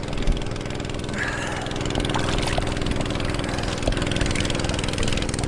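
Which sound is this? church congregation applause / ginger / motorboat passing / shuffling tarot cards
motorboat passing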